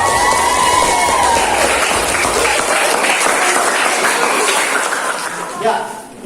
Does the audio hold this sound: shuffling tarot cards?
no